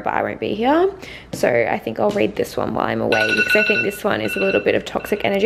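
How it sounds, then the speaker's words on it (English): A phone alarm rings in repeated electronic tone bursts, loud and close, interleaved with someone talking over it. "Sorry, that's my alarm because I actually need to leave."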